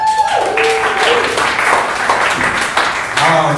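Comedy club audience clapping for a newly introduced comic, a dense wash of applause with scattered voices and cheers mixed in, fairly loud and close throughout.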